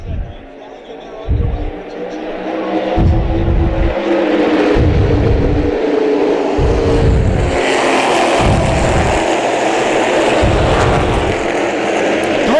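Modified stock cars racing at New Hampshire in the Whelen All-Star Shootout: a loud, continuous roar of engines as the pack accelerates past, with rising and falling revs beneath an announcer's commentary.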